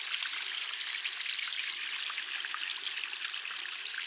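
Small garden pond waterfall beside a bridge, giving a steady, close trickle and splash of falling water that holds even throughout, with no voices.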